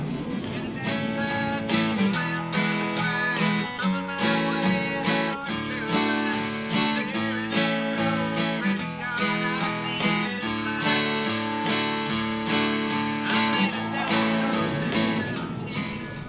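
Acoustic guitar strums chords along with the recorded song, a continuous full-sounding rhythm of bright strokes over steady bass with other instruments blended in, moderately loud throughout.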